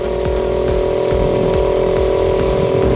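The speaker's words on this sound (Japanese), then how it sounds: "エンジンめっちゃ回ってるし" A Suzuki Choinori small motorbike engine revs high and steady while riding, a loud buzzing whine held close by for the whole stretch, with rough low rumble beneath.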